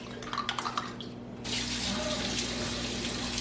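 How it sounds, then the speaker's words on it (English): Dishes being washed under a running kitchen tap: a few light clinks, then a steady, close hiss of water gushing into the sink that continues to the end. "I've got my daughter in the background doing dishes."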